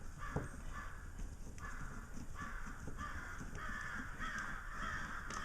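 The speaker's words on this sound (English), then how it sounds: "I don't know if you can hear all those crows out there" Crows caw repeatedly outdoors at a moderate distance, their harsh calls recurring in bursts over a steady background murmur.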